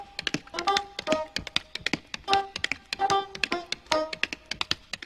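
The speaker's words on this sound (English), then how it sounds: "And there's even tap dancing in this one." Quick, crisp tap-dance steps from a musical film rattle out in a steady, lively rhythm of sharp clicks and heel thumps, close and clear with no talking.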